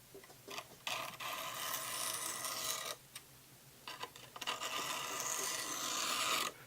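A 1972 Sod Buster knife edge scrapes in long, steady, gritty strokes across a coarse sharpening stone, close and fairly loud, with brief pauses between passes.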